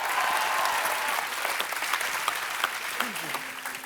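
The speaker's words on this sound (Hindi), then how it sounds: "जोरदार तालियां एक बार।" A studio audience at a Kapil Sharma Show taping applauds with dense, loud, sustained clapping that slowly thins toward the end.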